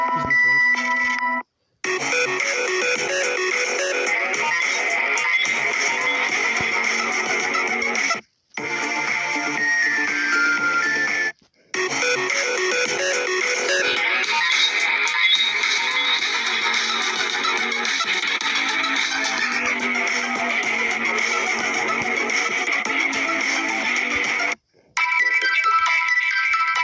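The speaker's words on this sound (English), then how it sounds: "And these are the ringtones." Nokia and LG phone ringtones play one after another, loud electronic melodies separated by brief silent gaps, with no voices.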